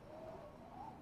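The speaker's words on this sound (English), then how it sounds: "A bird." A bird call in the video game Date Everything!, a faint, soft cooing note that rises slightly and repeats once over a low, steady outdoor ambience.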